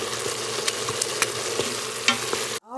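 Ground beef cooks in an Instant Pot with a steady sizzle and scattered clicks and scrapes of stirring, cutting off abruptly near the end.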